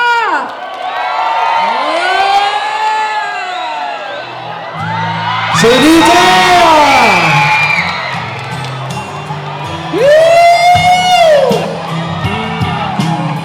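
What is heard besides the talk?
crowd cheering and screaming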